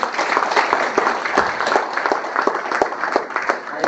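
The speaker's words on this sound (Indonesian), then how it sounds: "Tepuk tangan untuk dia." Audience clapping loudly and steadily after a professor's talk, close dense applause with distinct sharp hand claps throughout.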